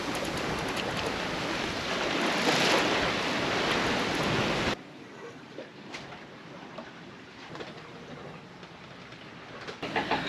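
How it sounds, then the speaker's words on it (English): Rough ocean waves surge and wash around a sailboat running wing on wing on an offshore passage to the Bahamas, loud and broad for the first half, then a quieter, steady rush of water and wind. "the waves are crazy, and we are being tossed around"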